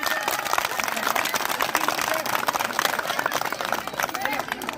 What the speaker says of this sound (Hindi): अब ताली बजा दो एक बार जोरदार।